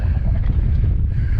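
Wind on a cold, windy day out on the ice, a brief continuous low rumble and buffeting across the microphone with no clear voices.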